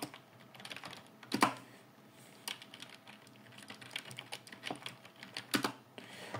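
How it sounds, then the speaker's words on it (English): Keystrokes on a computer keyboard as a command is typed, a steady run of close, sharp clicks with a few louder taps, no voices. "we go to CMD and we type ipconfig"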